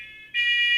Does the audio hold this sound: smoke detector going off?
yes